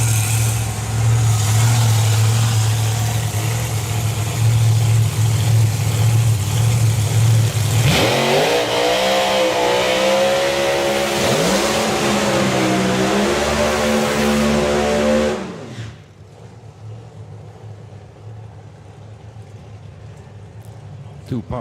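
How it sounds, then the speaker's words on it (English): Drag racing cars at the FIA/FIM Euro Finals perform two powerful burnouts, loud roaring engines revving hard with rising and falling pitch over a constant throbbing rumble, then cutting out abruptly into quieter trackside ambience with a commentator talking. "Two powerful burnouts."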